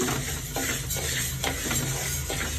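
Idli podi ingredients are dry-roasted in a pan, with a close, continuous gritty scrape and rustle from steady stirring and a faint sizzle underneath, no speech.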